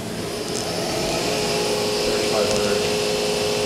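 Spindle of a Fadal vertical machining center running after a gear shift, a steady loud mechanical hum with a faint rising whine, continuous and close, alongside a person talking.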